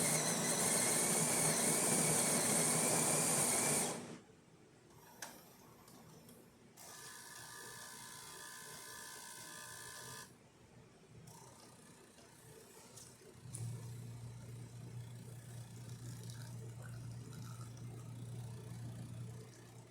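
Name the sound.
Jura E6 coffee machine brewing an espresso shot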